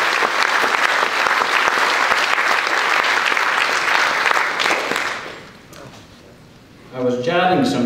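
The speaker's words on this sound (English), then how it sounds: "So one final round of applause for all the working with us and all these recipients." Loud, dense applause fills the hall at a senior awards ceremony for about five seconds, then fades, leaving a short lull before a speaker begins talking.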